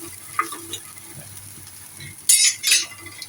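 Cooked okra is scooped from a pan into a bowl: faint sizzling underneath, a few soft scrapes, then two bright metallic clinks of utensil against cookware, close by.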